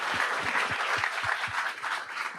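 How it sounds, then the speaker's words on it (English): An audience applauds a conference panel, a lively, dense patter of many hands clapping at moderate loudness that continues steadily throughout. "Please keep the applause going for our wonderful panel."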